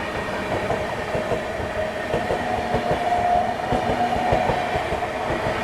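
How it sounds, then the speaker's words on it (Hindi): Prayagraj Express train overtaking on the middle line at Aligarh outer, heard from aboard the 12275 Prayagraj–New Delhi Humsafar Express: a steady, loud rolling rumble with rhythmic clickety-clack of wheels over rail joints throughout. "अलीगढ़ आउटर पे प्रयागराज एक्सप्रेस हमारे आगे निकल रही है।"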